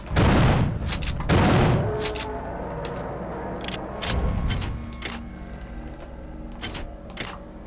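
A shotgun fires in System Shock 2: loud, close blasts, two in quick succession and another a few seconds later, followed by sharp mechanical clicks and clacks.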